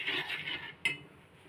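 A spoon stirs milk and oats in a dish with a soft, continuous swishing scrape, then one brighter clink of metal against the bowl before the sound dies down to quiet.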